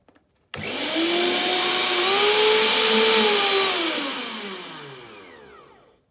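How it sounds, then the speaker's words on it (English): A Safeway 1.5L blender motor switches on after a brief click and runs steadily for about five seconds, its whine rising slightly in pitch and then sagging near the end, loud and alone with no talk. "Now I'm directly going to activate the switch and see what is wrong with the motor."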